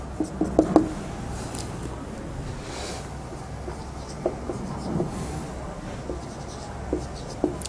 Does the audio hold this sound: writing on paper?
yes